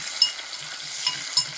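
Green chillies, onion and curry leaves fry in oil in a pan for Telangana-style pindikura pesarpappu curry, a soft continuous sizzle with a few faint crackles and pops.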